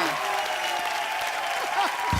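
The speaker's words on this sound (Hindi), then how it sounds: "शिल्पा और राजबाजी के लिए जोरदार तालियां" Studio audience applause for Shilpa and Rajbaji on a comedy talk show, a steady dense clapping wash from a large crowd lasting the whole moment, with a voice faintly underneath.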